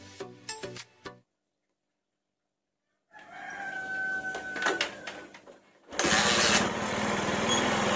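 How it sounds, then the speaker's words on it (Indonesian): A Honda Megapro New motorcycle engine, with its carburetor just refitted to the manifold, bursts loudly into life and keeps running steadily, after a rooster crows nearby and a quiet pause. "ini coba saya hidupkan dulu motornya"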